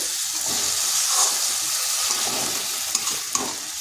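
Masoor dal with yardlong beans sizzles and fries in a pan, a steady broad hiss with soft stirring scrapes and a couple of small clinks near the end, close and fairly loud throughout.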